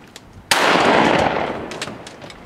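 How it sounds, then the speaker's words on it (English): A single loud shotgun blast from duck hunting cracks out abruptly and then rolls away in a long fading outdoor echo. "Good shot, Dan"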